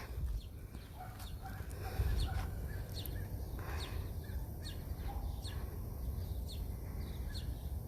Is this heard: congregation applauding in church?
no